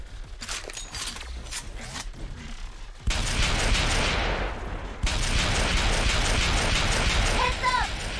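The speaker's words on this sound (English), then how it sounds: "She's deploying missiles!" Missiles deployed in the video game Agents of Mayhem, with loud dense mechanical clattering and rapid bursts of launches and gunfire layered over constant game noise and music, fairly close and continuous.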